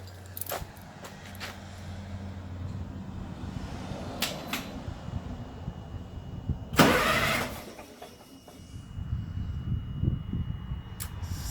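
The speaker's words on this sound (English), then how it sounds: "the remote start will try 3 times before it gives up" A Cat 3116 diesel engine in an LMTV truck cranks on remote start after fuel line work, a short loud burst of starter grinding rising midway amid quieter rumbling and faint clicks.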